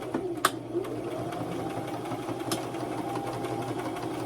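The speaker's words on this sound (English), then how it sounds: "fold in the fabric and then top it off with a straight stitch sew" A sewing machine runs a steady straight stitch along the folded fabric edges of a pillow, a continuous close mechanical whir with faint ticks and no speech.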